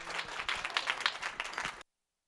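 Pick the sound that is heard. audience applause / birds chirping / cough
audience applause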